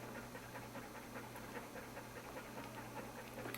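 A dog panting hard just after giving birth to puppies, a fast, faint, rhythmic breathing close by over a steady low hum, with no talk.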